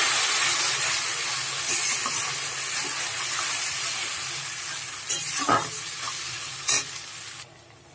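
Onions frying in a pan with tomato and green chili paste being added, for a Bengali echor chingri dish; a loud steady sizzle with stirring scrapes and a couple of sharper bursts near the end.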